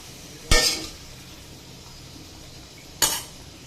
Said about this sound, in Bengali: আলু ভাজাটা আমি তুলে নিচ্ছি